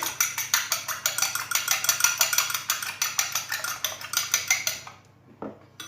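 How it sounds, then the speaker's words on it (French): Egg yolk whisked in a bowl with a fork, quick rhythmic metallic clinks against the dish for about five seconds, then stopping with a last faint tap. "Donc j'ai cassé mon œuf, je le dilue."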